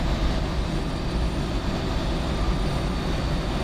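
ATR turboprop airliner arriving at Edinburgh in Microsoft Flight Simulator 2020, a steady broadband engine roar and rumble holding at constant loudness throughout, with no talk.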